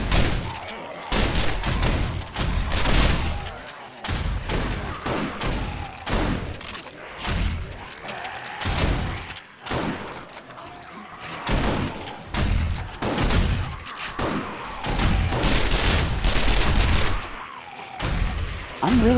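Explosions and sustained gunfire rage in the video game 7 Days to Die, a loud, dense barrage of booms and rapid bursts that keeps up with only short dips throughout.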